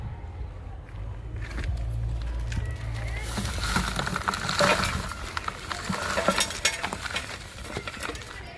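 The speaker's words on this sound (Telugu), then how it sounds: "ఇప్పుడు మట్టి వేస్తున్నాను." Soil tipped into a planting tub over a layer of fresh grass, a scraping, pouring rustle that builds and grows louder across the clip, with rough gritty bursts toward the end.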